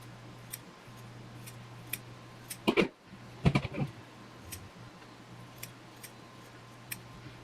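Scissors snip fabric and top stitching off a handmade garment in two quick bursts of crisp cuts mid-clip. Faint scattered ticks and a low steady hum sit underneath in a quiet room.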